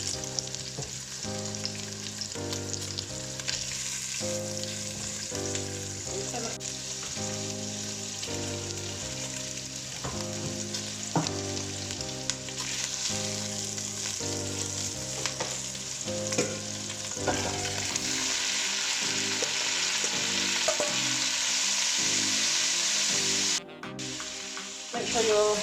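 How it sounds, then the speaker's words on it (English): Five spice pork belly frying in olive oil in a pan, a continuous crackling sizzle with stirring, heard under a steady background of music, without talk. "Make sure you're moving your meat around quite a lot, just so it gets a fair chance on the bottom to get brown"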